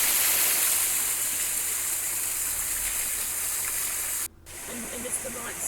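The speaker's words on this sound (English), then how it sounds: "from there we had a look at the Sciatica Falls" The small Sciatica Falls in a rainforest pour with a broad, steady hiss of falling water that cuts out abruptly near the end before a quieter stretch resumes.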